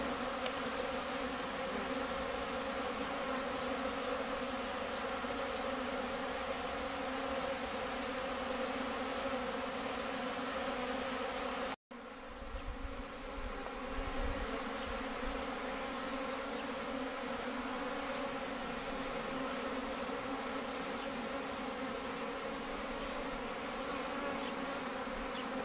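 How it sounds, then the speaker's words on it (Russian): Honey bees fly around a hive on a warm, sunny, snowless February day, a thick, steady buzzing drone from many insects close by that continues with a brief dropout partway through. "и пчелки шикарно летают."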